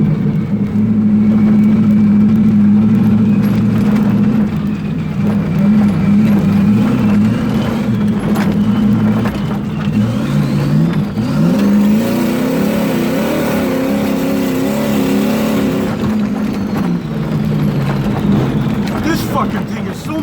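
A turbocharged 454 big-block car accelerates hard in third gear, its loud, continuous engine roar holding close and climbing in pitch midway, with the throttle easing briefly before it pulls again.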